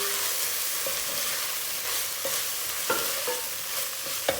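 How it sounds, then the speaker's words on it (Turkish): Softened onions for a pilaf sizzle steadily in a pot while a spoon stirs them, several scraping strokes and light knocks sounding close over the continuous frying hiss. "Şöyle bir daha karıştırıyorum."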